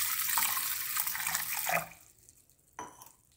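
A glass of water pours into a bowl in a home kitchen, a splashing gush that tapers off, followed by a brief, smaller splash near the end.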